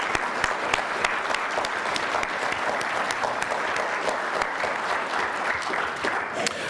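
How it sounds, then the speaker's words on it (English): A crowd at a fire department awards ceremony in Kern County applauds, a full, even wash of many hands clapping that holds steady throughout. "Let's give them a round of applause."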